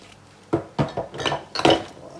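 Utensils clink and scrape against a bowl as a salad dressed with calamansi and brown sugar is tossed: several sharp, close clatters in quick, uneven succession, with no speech.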